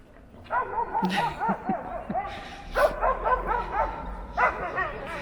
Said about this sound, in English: Friendly dog goes mad because it sees other dogs.